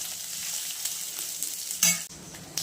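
Grated coconut sautéing in a pan for a village-style chicken curry, a steady close sizzle with a few scraping stirs and a louder burst near the end, no voices.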